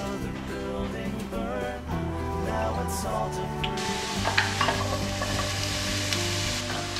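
Onions and garlic sauté in a pan, a steady close sizzle that swells into a brighter, louder hiss partway through as more goes in, with light stirring clicks over soft background music.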